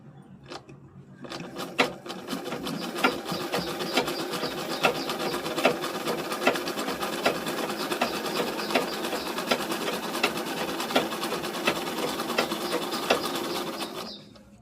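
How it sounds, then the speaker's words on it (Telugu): A picot sewing machine stitching a fall onto a sari runs steadily and close for over ten seconds, a dense whirring hum with fast regular ticking, then stops. "పై సైడ్ కూడా పీకో మిషన్ తోటే కుడుతున్నందుకు"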